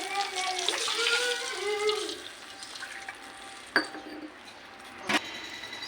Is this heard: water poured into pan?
yes